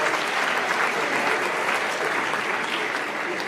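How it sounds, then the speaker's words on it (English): Audience applause at a school capping ceremony, a steady dense clapping from a crowd sustained loudly throughout, with no pauses. "Let's give them a big hand."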